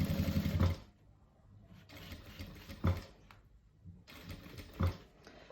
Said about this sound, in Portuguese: eu vou costurar esse viés em toda a volta